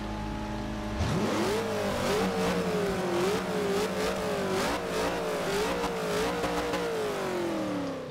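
A 1966 Ford GT40 Mk II V8 in the racing game Forza Horizon 2 fires up and revs repeatedly, its loud engine note rising and falling in a rhythmic series of throttle blips, close and alone.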